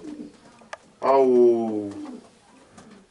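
Racing pigeons in a loft in Dâmbovița, Romania, give one close, full coo that rises and then trails off, with soft voices and faint background noise around it.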